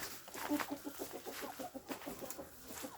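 Hens cluck softly and repeatedly while pecking at leftover taro, a rhythmic run of short close clucks with quieter background noise and no talking.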